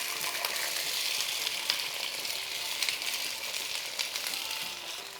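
Thin triangles of peeled, sliced potato fry in a hot tadka of oil for a Goan cabbage and potato sukkhe, a steady moderate hiss of sizzling throughout with no voices.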